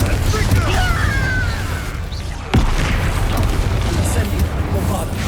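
A Confringo fire spell blast from the Hogwarts Legacy game: a loud booming burst with a sharp crack near the middle, over dense rumbling combat noise and a steady low hum.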